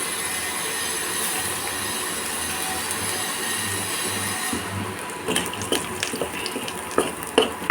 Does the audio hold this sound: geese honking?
no